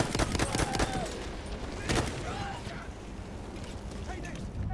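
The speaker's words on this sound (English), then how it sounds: "now I do, because he's just firing at me" Enemy gunfire in Battlefield 1 on the Nivelle Nights map, with rapid bursts of shots crackling near and loud amid battlefield noise, a few sharper reports standing out.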